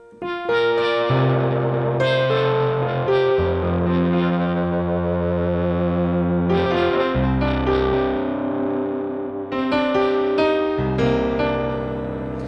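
Layered keyboard tones from a Nord Stage with a piano sound layered in, sustained chords changing every second or two, loud and continuous.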